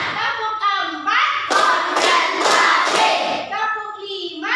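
Children in a classroom clapping along in a rhythmic hand-clapping game, bursts of sharp group claps between stretches of chanting voices.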